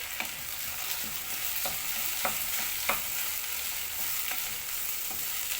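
Rice is stirred into fried onions in a hot pan, a spoon scraping and tapping in scattered strokes over a constant close sizzle.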